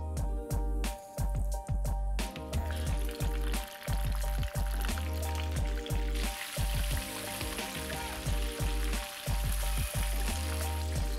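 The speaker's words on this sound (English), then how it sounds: "The oil is heated up and the chicken is rested well. Now we start frying it." Rested chicken pieces fry in heated oil on a medium-low flame, giving a continuous sizzle that grows denser in the second half, with music playing underneath.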